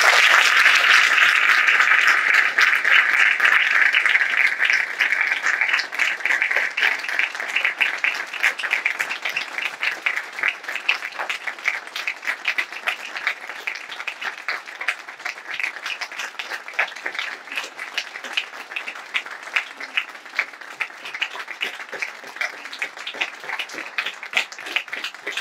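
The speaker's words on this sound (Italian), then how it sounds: "L'applauso però è per tutti voi" An audience at a civic list campaign event in Rivarolo Canavese applauds steadily, dense clapping at first that gradually thins into scattered claps over about twenty-five seconds.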